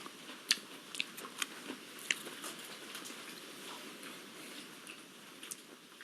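Raw heart of palm is chewed with faint crunchy bites, a few sharp crisp snaps early on followed by softer quiet chewing and small clicks, close to the mouth with no talk.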